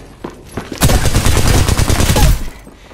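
Rapid video game gunfire rips out in one dense, loud burst lasting under two seconds, preceded by a few faint taps and then cutting off abruptly.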